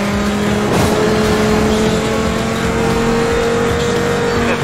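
Loud, steady car engine roar from a police pursuit in Need for Speed Most Wanted 2012, with an SRT Viper GTS in the chase, droning continuously with a faint tire squeal.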